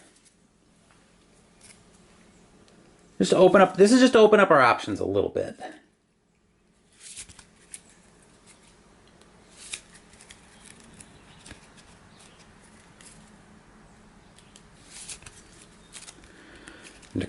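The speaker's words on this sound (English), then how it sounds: "So we'll give this a shuffle" Elder Sign board game cards are shuffled in a loud, dense burst of riffling and slapping lasting about two seconds, followed by quieter handling sounds while a person talks.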